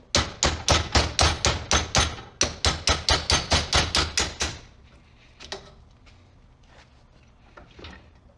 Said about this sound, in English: relieves some of the pressure for hammering the old mount out